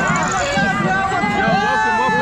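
Packed crowd in Binondo Chinatown, Manila, a loud, continuous hubbub of many voices close around, with overlapping chatter and calls filling the street and no break.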